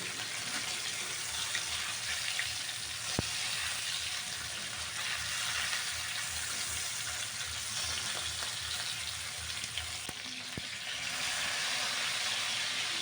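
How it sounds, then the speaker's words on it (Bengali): Tilapia fish fries in hot oil in a home kitchen, a continuous close sizzle and crackle with a few sharp pops, steady and unbroken throughout. "তো আমার মাছটা প্রায় ভাজা হয়ে গেছে"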